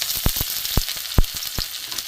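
Whole spices and cardamom crackling in hot oil: a steady hiss of frying punctuated by about six sharp pops at uneven intervals, close and fairly loud, with no voice.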